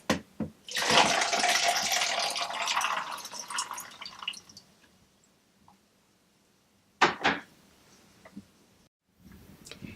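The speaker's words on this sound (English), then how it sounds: "Now pour your tea into the ice." Hot tea pours from a Keurig coffee maker into a cup filled with ice, a hissing splash lasting about four seconds, followed by faint crackles and brief clicks.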